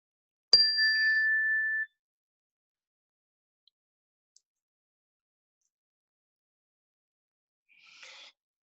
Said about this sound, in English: We'll begin the meditation with the ring of the chime